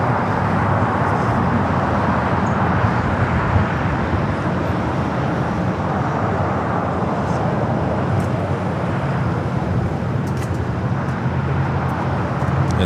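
An Emirates Airbus A380 airliner lands at LAX, heard as a continuous broad roar of jet engines and rushing air, loud and steady throughout with no talk over it.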